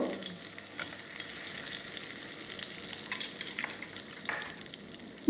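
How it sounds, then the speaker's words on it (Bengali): Large crabs fry in mustard oil in a wok, giving a soft, steady crackling sizzle with occasional stirring scrapes, fairly quiet and close. "বড় কাঁকড়াগুলো বেশ কিছুক্ষণ ভাজতে হবে।"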